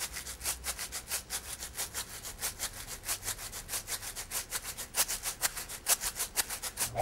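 A rice-filled container shaken in a steady rhythm, each stroke a dry rattling swish, several per second, quiet and close.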